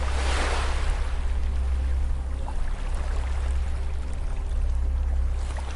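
Gentle ocean waves wash onto a beach in a steady, soft surf hiss that rises and falls slightly, continuous and calm with no voices.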